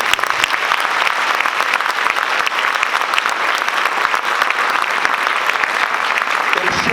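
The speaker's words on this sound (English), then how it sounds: "How about another round of applause for us?" Sustained applause from a concert audience after a school jazz ensemble performance, dense and steady clapping filling the hall for several seconds without a break.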